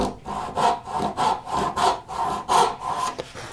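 A hand saw starting a kerf in a wooden board, about six rhythmic back-and-forth rasping strokes, close and fairly loud, with no talking.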